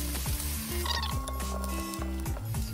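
Onions fry in a pan for a burrito, a steady close sizzle running throughout beneath a loud background of overlapping music tones.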